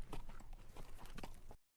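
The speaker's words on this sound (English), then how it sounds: "Besim stopped and dismounted his horse" A horse's hooves clip-clop in a quick, uneven rhythm for about a second and a half, fairly faint and blurred, then stop abruptly into silence.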